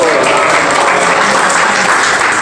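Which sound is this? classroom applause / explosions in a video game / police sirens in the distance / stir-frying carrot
classroom applause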